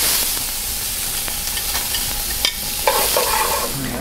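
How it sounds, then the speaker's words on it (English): Mirepoix vegetables frying in a pan over reduced heat and being stirred, a steady close sizzle with scraping stir strokes and a few sharper clanks of utensil on pan. "in that same pan, I'm gonna reduce the heat, and I'm gonna start with my mirepoix of vegetables."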